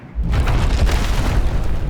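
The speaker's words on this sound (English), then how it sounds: "Let me wait for the explosion." A loud, booming explosion in the video game God of War Ragnarök bursts in suddenly and rumbles on heavily for about two seconds.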